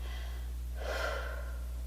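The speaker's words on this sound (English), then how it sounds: "I like to start this breathing exercise with an out breath," A single slow breath is pushed out to begin a breathing exercise, a soft airy exhale swelling midway and fading, close to the microphone over a low steady hum.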